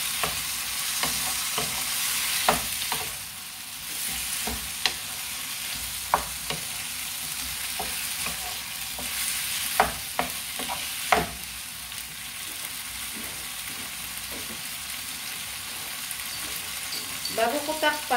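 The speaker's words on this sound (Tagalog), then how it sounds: "Isunod ko na yung chicken." Chicken fries for adobong sitaw, a steady close sizzle filling the pan while a utensil stirs and scrapes in scattered knocks, with a brief spoken moment near the end.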